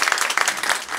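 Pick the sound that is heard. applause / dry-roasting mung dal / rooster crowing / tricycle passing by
applause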